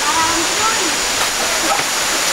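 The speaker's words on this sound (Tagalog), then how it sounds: "Nakikita nyo ba yan? Falls pala?" Waterfall pouring in a forest setting, a loud, steady close rush of falling water filling the whole clip, with faint voices of people talking beneath it.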